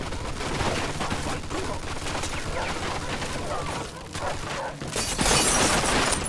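Sustained machine gun fire in a Mafia II firefight, rapid loud bursts mixed with shattering glass and impacts, continuous over several seconds.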